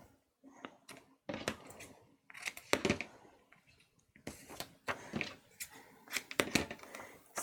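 Scissors snipping through a sheet of acetate for a craft project, heard as a series of close, crisp cuts and rustles in uneven bursts, with short quiet gaps between strokes.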